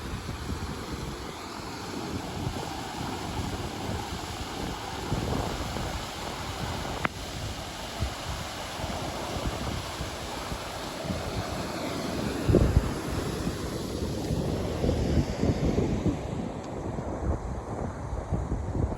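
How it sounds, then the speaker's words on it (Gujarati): Floodwater from overflowing fields rushes continuously with a broad, steady roar after heavy rain, mixed with gusty wind buffeting the microphone. "બધા કાઢ્યા ઓવરફ્લો થઈ ગયા અને પાણી છે ને ધોધમાર પાણી આવે છે"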